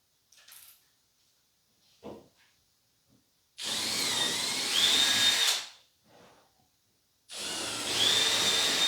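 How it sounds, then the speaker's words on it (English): A power drill enlarging holes in wood for a router table insert, two loud close bursts of whirring drilling with rising pitch, separated by quiet gaps with small knocks and handling sounds. "We're gonna make these holes a little bit bigger because I don't want to be that hard to put on."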